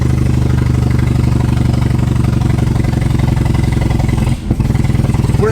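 Nissan 240SX engine bogging uphill while floored in third gear, a loud, steady, labored low drone with a brief dip near the end before it resumes.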